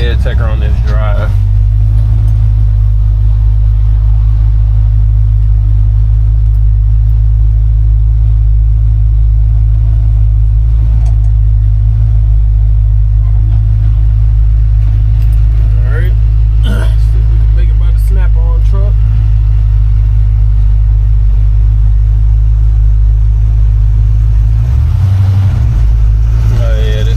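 A 1952 Chevy 3100 pickup's engine pulls under throttle on the road, a steady low rumble with constant drivetrain drone that barely changes in pitch, heard from inside the cab without talk.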